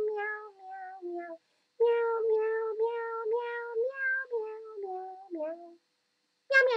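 A voice imitates a cat, singing a string of drawn-out meows in a simple melody with a couple of short pauses, close and clear.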